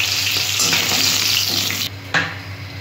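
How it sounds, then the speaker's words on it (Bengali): Mustard seeds, dried chilli and bay leaf hit hot oil for a tempering, a loud dense close sizzle that crackles continuously, then cuts out briefly and resumes more faintly. "এখানে সর্ষে, শুকনো লঙ্কা, তেজপাতা আমি ফোড়ন দিয়ে দিলাম"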